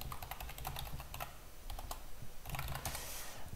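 Rapid keystrokes on a computer keyboard while entering a name during an operating system setup, two quick bursts of clicky taps separated by a short pause, close and fairly quiet.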